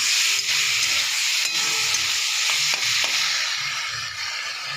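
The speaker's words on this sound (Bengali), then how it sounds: "চিংড়ি মাছটা ভাজা বসিয়ে দিয়েছি" Steady broadband sizzling of shrimp frying in hot oil, loud and continuous, with a few faint clinks and stirring scrapes underneath.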